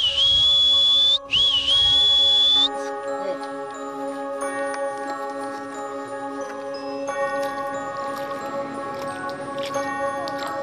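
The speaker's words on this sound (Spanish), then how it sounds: "con un silbido le indica la hora de comer" A person whistles loud, sliding high notes to call a pet lizard to feed by an estuary near the beach at San Juan del Sur, then stops, leaving steady insect and bird tones ringing in the background.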